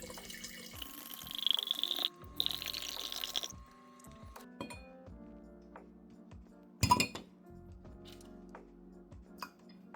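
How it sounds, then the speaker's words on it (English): Isopropyl alcohol poured into a glass jar, with a couple of seconds of trickling liquid followed by sparse clinks and taps of glass, including one sharper knock, in a quiet room. "I prepared my glass jar and began to fill it with isopropyl alcohol."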